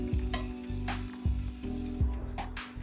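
Beef cooks in a pan for Filipino caldereta stew: a steady sizzle under repeated clanking strikes and scrapes of a utensil against the pan, roughly every half second, with no speech.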